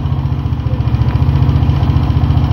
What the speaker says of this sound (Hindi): मोटरसाइकिल आ गया